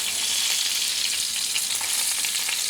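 Scallops sear in a hot frying pan with a loud, steady crackling sizzle, close up and uninterrupted, with no talk.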